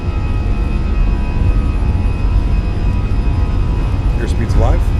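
Fenix A320 jet engines spooling at takeoff power in Microsoft Flight Simulator at London Luton, a loud, steady broadband roar filling the whole clip with a brief rising whine near the end.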